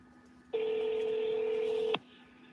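A single steady touch-tone dialing beep from a phone calling a bank's line, sounding loud and alone for about a second and a half before cutting off.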